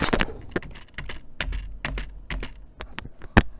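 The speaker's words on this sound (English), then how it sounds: "I'm pressing my spacebar right now." Sharp clicks from a computer keyboard's spacebar, pressed repeatedly while playing the game Dread, land as a quick, irregular run of close, crisp taps with no talking.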